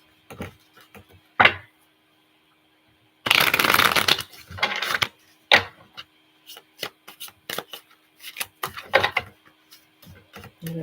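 Tarot cards riffle and slap in a few sharp shuffling bursts, with one long dense shuffle in the middle, close by with quiet pauses between.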